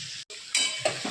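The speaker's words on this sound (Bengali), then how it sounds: "আর এদিকে হচ্ছে বিট গাজর ভাজা আছে।" Beetroot and carrot sizzle and fry in a pan in a home kitchen, a close, steady crackle with a stirring scrape partway through.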